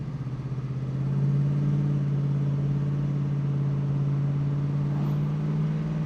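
A 1973 Pontiac Trans Am with a 455 cubic-inch engine accelerating on the road, a steady deep engine drone that swells early and holds loud and close throughout.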